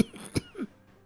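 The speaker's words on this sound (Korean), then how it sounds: "기침이 쏟아진다" A few harsh coughs burst out close by, with a short throat-clearing rasp in between, then silence; the coughing fits a frail, ill figure from the Joseon-era Jingbirok.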